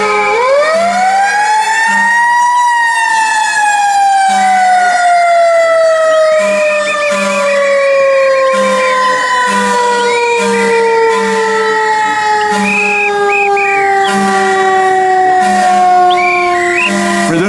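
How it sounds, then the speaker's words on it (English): A loud wailing fire engine siren rises and slowly falls in one long sweep, joined by repeating higher warbling siren tones, continuous and close, at a San Francisco earthquake remembrance at Lotta's Fountain. "Here is the sound of the sirens"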